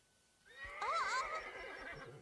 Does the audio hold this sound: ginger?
no